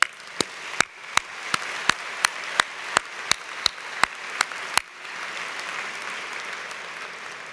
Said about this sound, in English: A round of applause for all